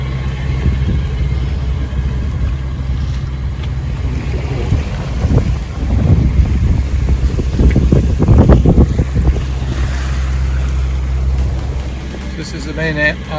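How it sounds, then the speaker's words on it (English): A northeasterly wind buffets a boat at sea near St Mary's, a loud, steady gusting rush over a low droning background, with splashing water and voices faint underneath. "A little bit of wind from the northeast, but it looks good today."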